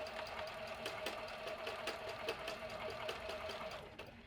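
A sewing machine quilts fabric for a small house-shaped candy box, giving a quiet, steady mechanical whir with a rapid regular ticking of the needle throughout.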